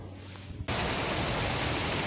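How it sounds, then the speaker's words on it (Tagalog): Heavy rain pours outdoors at night, starting abruptly as a loud, dense, steady hiss of drops close by after a quieter, muffled opening moment. "Malakas pa ang ulan."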